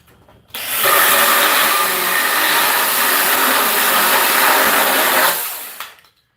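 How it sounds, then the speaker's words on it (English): A DEWALT 12-inch chainsaw cuts through wood, a loud, steady broadband whine that starts abruptly, holds for about five seconds and then cuts off as the blade winds down. "DEWALT knows how to make a chainsaw."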